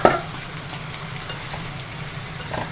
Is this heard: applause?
no